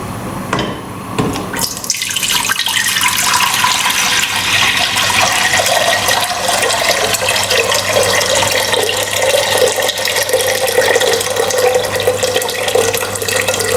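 Water pours steadily from a tap into a container, filling about a liter for soaking fava beans in a Moroccan home kitchen; a continuous close splashing rush that starts after a brief knock and runs alone throughout.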